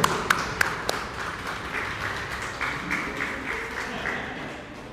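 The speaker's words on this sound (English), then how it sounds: "He deserves a bigger round of applause than this." Audience applause at a recycling campaign event in Mauritius: a few sharp claps at the start, then steady clapping that holds through the moment, close and moderately loud.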